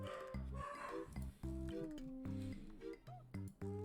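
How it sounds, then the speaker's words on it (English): A dog barks repeatedly at the neighbors in a city home, sharp harmonic barks in quick irregular bursts, fairly close and loud, with no talk over them. "if you can hear him in the back barking at the neighbors"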